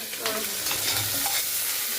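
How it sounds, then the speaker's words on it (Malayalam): A spoon stirs rice and vegetables frying in a pot, giving close scraping strokes over a steady sizzle. "എന്നിട്ട് നല്ലോണം ഇങ്ങനെ ഇളക്കണം"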